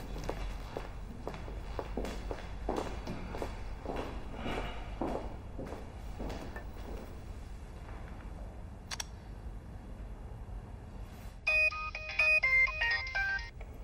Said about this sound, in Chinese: 林宇，刚才打电话怎么没接啊